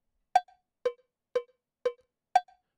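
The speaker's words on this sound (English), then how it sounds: "Cowbell." BandLab's cowbell metronome sound: five bright, metallic cowbell hits at a steady half-second pulse, dry and isolated, with the first and last strikes ringing higher than the middle three.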